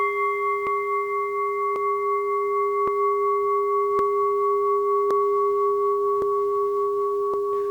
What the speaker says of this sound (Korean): 이 상태에서 종소리가 들리면은